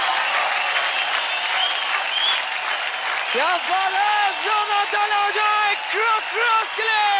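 Loud audience applause in a televised dance competition studio, a dense steady wash of clapping and crowd noise, with a strong voice, sung or shouted, riding over it through the second half.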